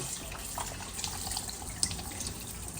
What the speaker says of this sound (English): I'm just gonna go ahead and rinse this off and I'm gonna keep cooking